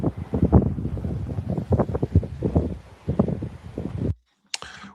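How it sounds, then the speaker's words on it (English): Wind gusts steadily across an open microphone, a broad rumbling roar that rises and falls in waves, then cuts out abruptly before a short final burst. "That's windy."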